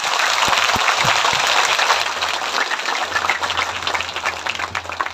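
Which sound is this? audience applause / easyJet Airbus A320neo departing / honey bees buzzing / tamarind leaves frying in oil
audience applause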